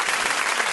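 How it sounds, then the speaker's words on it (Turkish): Hands clap in a brief burst of applause, a dense close patter lasting under a second. "Kendimizi alkışlıyoruz."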